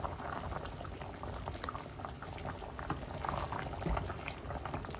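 Water boils at a steady roll, a dense continuous bubbling and fizzing that stays even throughout.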